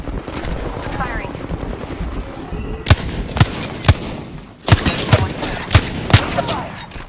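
Video game gunfire rings out as sharp loud shots, a few single cracks spaced apart and then a quicker burst, over a constant rumbling background, with a voice talking in the game.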